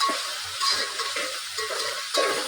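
Chopped tomatoes and onions frying in a pan for prawn biryani, a steady soft sizzle with occasional stirring scrapes, close and continuous with no talk.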